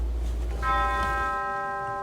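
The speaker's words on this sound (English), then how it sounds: "The toll of church bells for Congressman John Lewis." A single church bell strikes and rings on with a long, clear, fading tone over a low rumble, tolling for Congressman John Lewis.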